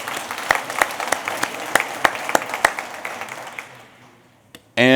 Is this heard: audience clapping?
yes